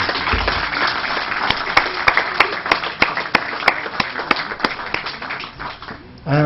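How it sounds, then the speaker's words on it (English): An audience at the closing of a cabinet retreat applauds with dense, sustained clapping and a few sharp, loud individual claps standing out, fading toward the end. "I think we should give a round of applause again for this."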